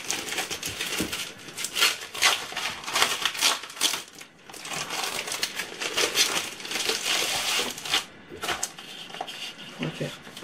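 Paper rustles and crinkles continuously up close, with busy crackling bursts and brief pauses as sheets are handled.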